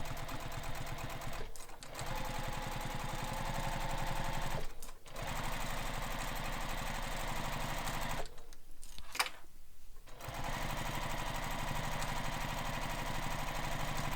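A home sewing machine runs steadily, stitching a bag strap for a Manhattan Bag, its close, even whirring broken by two brief pauses and a longer stop near the end.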